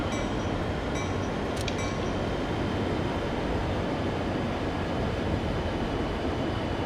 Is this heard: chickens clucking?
no